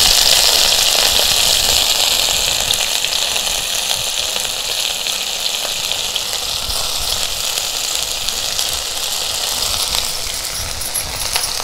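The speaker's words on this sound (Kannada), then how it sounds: "ಫಸ್ಟಿಗೆ ತುಪ್ಪ ಹಾಕ್ಕೊಂಡು ಈ ಒಂದೆಲಗ ಹುರಿಬೇಕು" Brahmi (ondelaga) leaves frying in ghee give a loud, steady hiss and crackle that stays close and unbroken throughout, with no talking.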